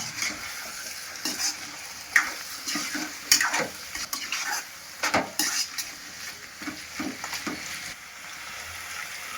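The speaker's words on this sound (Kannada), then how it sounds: "ಹಾಕೊಂಡು ಚೆನ್ನಾಗಿ ಮಿಕ್ಸ್ ಮಾಡ್ಕೋಬೇಕು" Chicken masala is stirred in a pan after salt goes in, with repeated scraping and clinking of a spoon against metal over a faint sizzle, in irregular bursts.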